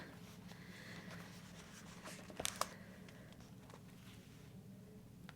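Pen handwriting small text in a passport-size journal, close soft scratching strokes with brief pauses and a couple of sharper taps midway, quiet overall.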